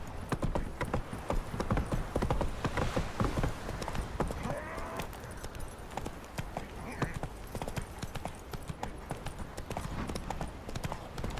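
Horse hooves clip-clop steadily in The Witcher: Wild Hunt, a continuous rhythmic trot of many hoofbeats lasting several seconds, fairly soft, with faint voices now and then.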